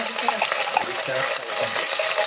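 Potatoes fry in a pan with a dense, steady sizzle, while a utensil stirs them with scraping, clattering noises on top.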